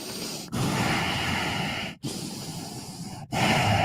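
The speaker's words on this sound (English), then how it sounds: "I'm gonna mute my guest because I can hear him breathing" A man's breathing close into his microphone, a steady hissy rush of air broken by three short gaps, fairly quiet and with no talking.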